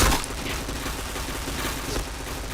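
Gunfire rings out in the shooter game Point Blank, a loud burst at the start followed by dense, rapid rattling shots and booms that continue steadily throughout.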